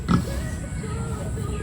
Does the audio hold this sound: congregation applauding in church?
no